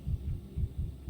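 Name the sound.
heartbeat in video game Pathologic 3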